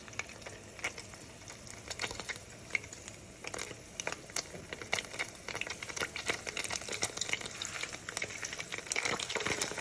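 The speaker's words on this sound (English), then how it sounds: "your cheese and your salami in and just let it fry" Salami and cheese frying in hot oil in a pan for a Dominican mangu dish, a steady faint sizzle with soft crackles and pops throughout, no talking.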